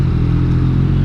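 A Yamaha MT-09 naked motorcycle pulling away, its engine a steady loud low rumble close by, with no talk over it.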